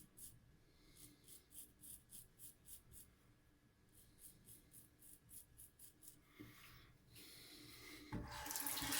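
Running water from a tap rinses a safety razor in a series of short, regular splashing passes, fairly quiet and close, with a louder gush of water near the end.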